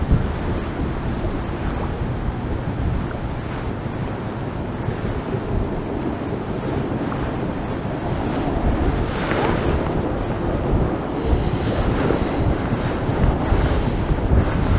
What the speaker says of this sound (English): Wind's getting stronger and stronger though